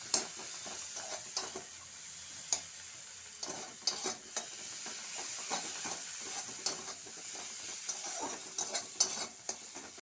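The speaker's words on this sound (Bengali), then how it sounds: "মশলাটা আমি একটু কষে নেবো। একটু আমি জল দিয়ে দিচ্ছি, মশলাটা নালে পুড়ে যেতে পারে।" Spice paste frying in oil in a pan, being stirred for a Bengali egg-in-onion curry: a steady sizzle and hiss with frequent scraping clicks of the spoon, close and moderately quiet, with no talking.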